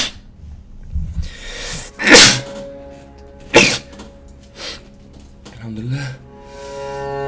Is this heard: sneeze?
yes